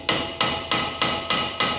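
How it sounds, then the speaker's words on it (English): Six sharp, evenly spaced hammer blows strike rusted brake parts on a Lada Niva during a brake pad replacement, loud and close with a ringing metallic decay after each hit. "so I just hammer a little bit on each side, nothing too much, just to break loose those tension"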